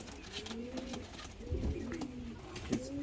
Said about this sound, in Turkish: Long Longface'ler Ferhat abimin en sevdiği kuşlar